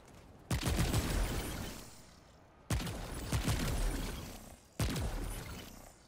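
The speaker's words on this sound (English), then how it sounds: "Adam, there's a shooting range." Video game gunfire on a shooting range in Remnant II comes in three sustained bursts of rapid shots, each starting sharply and then trailing off, with short gaps between bursts.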